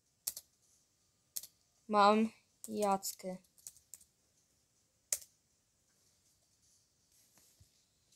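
Computer keyboard keys tapped while someone plays Brawl Stars: a few sharp, isolated clicks spaced apart, with a short stretch of speech in the middle.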